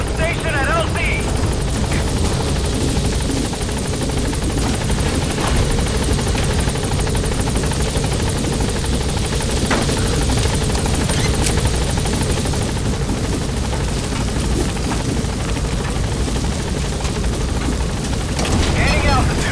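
Helicopter in Metal Gear Solid 5: The Phantom Pain arriving at a landing zone, a steady loud rotor roar with deep thumping low end filling the whole stretch, with a voice over it.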